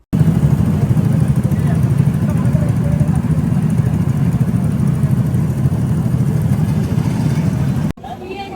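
Go-kart engines buzz continuously at a go-kart track, a loud steady mid-pitched motor drone that cuts off abruptly near the end, with people talking faintly underneath.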